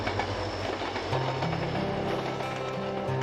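A passenger train on the Bonghwa line runs steadily along the rails, a continuous rumbling clatter with low engine hum, heard from close by with no talking.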